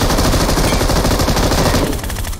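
Automatic gunfire in the battle-royale game PUBG, a loud, continuous rapid burst of machine gun shots filling the whole moment and easing slightly at the end, with no talk over it.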